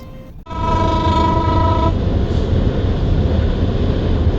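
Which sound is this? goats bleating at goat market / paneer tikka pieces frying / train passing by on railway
train passing by on railway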